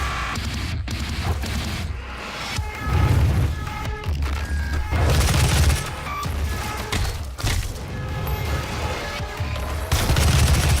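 Heavy gunfire and explosions from the 2016 Doom game rattle almost without pause, dense bursts and booms stacked on top of each other, loud and close, with no speech.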